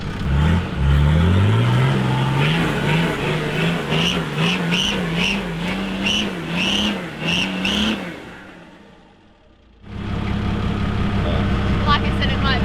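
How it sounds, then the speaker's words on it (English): An off-road vehicle on a wet, muddy trail revs hard as its wheels spin, the engine pitch wavering up and down, then falls nearly quiet before roaring loudly again, with a person talking over it. "In first gear, she just couldn't spin the wheels fast enough to clear the mud out of the tread."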